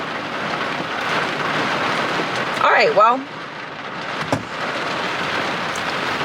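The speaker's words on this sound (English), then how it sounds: "it looks like it's gonna rain all day long" Heavy rain pours steadily outside on a stormy morning under severe weather and flood watches, a dense continuous hiss throughout, with a brief voice speaking partway through.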